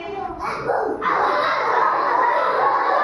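A voice imitates a dog barking, giving a loud, sustained yapping woof close up that starts as a short sound and then carries on steadily to the end.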